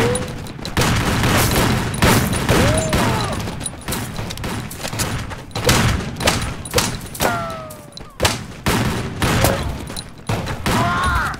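Gunfire aimed at an enemy in the game Pusu: Uyanış, dense rapid bursts of loud shots with booms and whistling ricochet-like tones over nearly the whole stretch.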